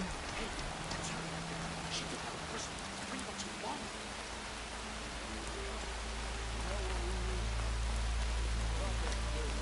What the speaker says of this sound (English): Land is bracing for this rain.